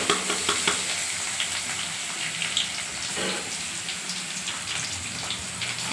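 A ground paste hits hot oil in a pan for a rasam tempering, setting off a loud, dense spitting sizzle that holds steady throughout with a few brief stir sounds and no speech.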